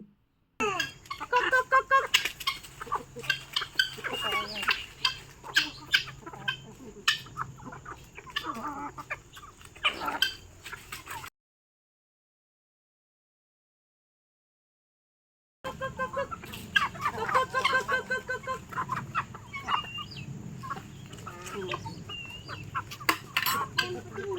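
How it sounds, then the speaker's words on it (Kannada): Many country chickens on a farm cluck and cackle in dense, overlapping bursts, close and lively, with a short silent gap midway. "ಎಲ್ಲ ನಾಟಿ ಕೋಳಿಗಳು ನೋಡಿ ಇಷ್ಟೊಂದು ಕೋಳಿಗಳಿದ್ದಾವೆ"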